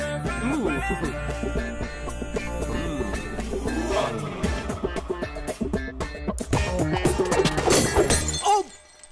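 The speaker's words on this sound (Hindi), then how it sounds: "भैया कॉफी का कप टूट गया।" A coffee cup shatters and breaks in a film scene during a carrom game, a crash amid busy music and background commotion, cutting off abruptly near the end.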